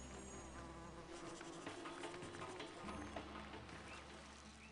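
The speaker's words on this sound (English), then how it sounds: "I also hear mosquitoes." Mosquitoes whine and buzz steadily at a low level throughout, a faint insect hum in the ambient soundscape of the city-building game Pharaoh.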